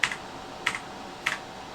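Three crisp, evenly spaced key presses on a computer keyboard, used as a key binding for the Airbus H145 helicopter in Microsoft Flight Simulator 2020 on PC. The clicks are close and sharp, with quiet room hiss between them.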